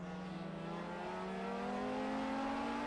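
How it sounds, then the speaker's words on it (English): Onboard a Mazda race car in the 2010 Continental Tire Series at Homestead, the engine roars loud and close, pitch climbing steadily through the revs with a brief dip as a gear shift cuts in. "you can hear on this onboard what we talk about with the gearing, the splits between the gears when they shift"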